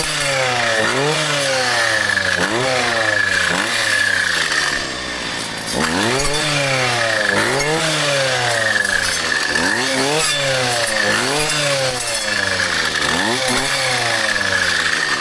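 A brush cutter's engine revs repeatedly as it clears dense, overgrown brush, loud and close, rising and falling in a steady cycle of revving pulses roughly every second or two throughout.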